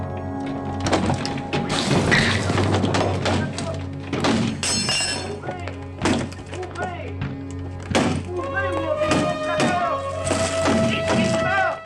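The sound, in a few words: people banging on a door in a film fight scene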